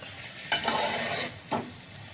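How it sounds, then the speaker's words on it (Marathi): A spoon stirs garam masala in a hot frying pan for masala khichdi, giving a sizzling fry with two distinct scraping strokes about a second apart, close and with no talk. "छान मिक्स करून घेऊ"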